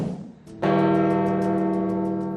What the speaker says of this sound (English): bells rang out across St. Peter's Square in the Vatican City